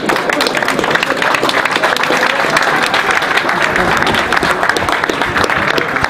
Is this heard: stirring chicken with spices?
no